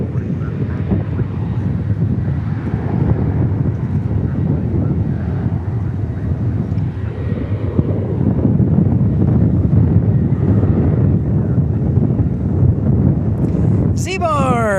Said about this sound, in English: The wind is blowing right into us.